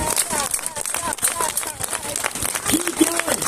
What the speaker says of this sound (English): everybody join in one last time and clap